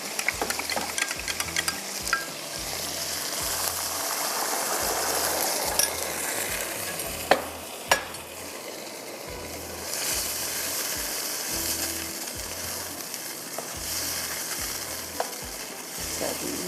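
Garlic and chicken fry in a pan for Singaporean rice, giving a continuous loud sizzle with rhythmic stirring scrapes and a few sharp clanks of a utensil against the pan, with no talking.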